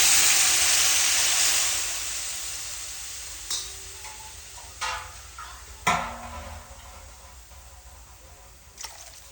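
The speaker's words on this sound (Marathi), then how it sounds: "आता आपण यामध्ये 2 ग्लास पाणी घालू" Two glasses of water hitting a pan of sautéed masala paste for methi bhaji, opening with a loud hissing sizzle that gradually fades, followed by a few scattered clinks of a spoon against the pan.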